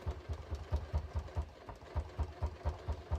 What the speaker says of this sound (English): I'm literally just sewing right near the edge.